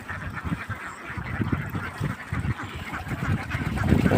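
A flock of ducks kept on a wetland quacks and honks in dense, overlapping bursts, close and fairly loud, building toward the end.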